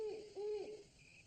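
An owl hoots at night on a wooded trail, two soft low calls, faint and somewhat distant.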